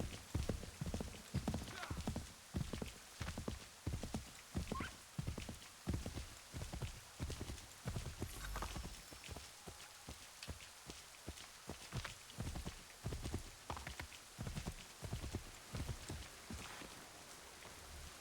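Horse hooves clip-clop steadily in Assassin's Creed 3 Remastered, a rapid rhythmic patter of footfalls over rain-like ambient noise, with someone talking faintly at times.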